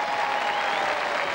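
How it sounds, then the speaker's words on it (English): Audience applause for two contestants at a televised royal charity knockout tournament, a steady moderate wash of clapping heard from a distance throughout the short burst. "Round of applause for two great contestants there."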